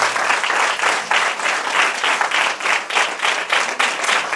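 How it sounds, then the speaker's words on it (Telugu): A church congregation applauding at a Sunday service, loud continuous clapping from many hands, close and even throughout. "Just give me claps to Jesus."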